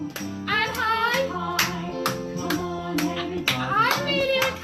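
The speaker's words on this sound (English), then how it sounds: "I'm going to clap high and low and high." Hands clap in a steady run of sharp, close claps, high and low, about eight in under five seconds, over a bright children's music track with singing.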